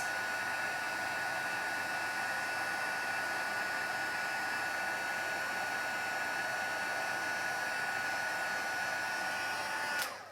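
A heat tool blows hot air to set crafting work, giving a steady, loud whooshing hum with a faint tonal whine that runs on unbroken and then cuts off at the end.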